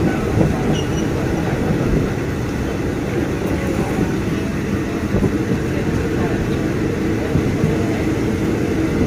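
A passenger train runs on rails between Ratchaburi and Thonburi station in Thailand, giving a steady, loud rumble of the carriages that lasts throughout, with no distinct clacks standing out.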